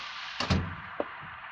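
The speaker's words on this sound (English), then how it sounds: "Close the door." A door shut indoors, heard as a dull thud followed by a second softer knock a moment later, fairly close against a quiet room with no voices.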